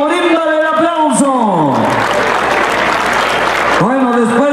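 A crowd at a ranch fair event in Pololcingo, Guerrero breaks into loud, steady applause in the middle, while an announcer talks over music before and after.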